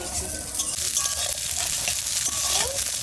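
Garlic and green chilies fry in a pan with a steady, close hiss and sizzle, broken by light scraping as they are stirred throughout.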